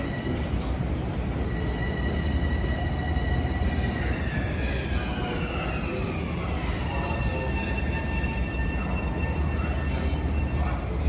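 A Long Island Rail Road train rolls into a track at Jamaica station, a loud, continuous rumble of wheels on rail with high, sliding squeals as it slows.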